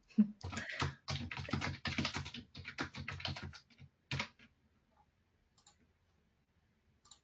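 Rapid typing on a computer keyboard, a dense run of close, crisp key clicks lasting about four seconds, then a few scattered taps trailing off into near silence.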